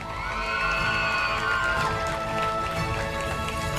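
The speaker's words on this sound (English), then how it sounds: "Give her a round of applause" Crowd at a secondary school graduation ceremony clapping and cheering for an award recipient, a dense, lively burst of applause with scattered shouts throughout.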